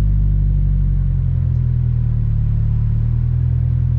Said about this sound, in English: it's definitely like still idling all over the place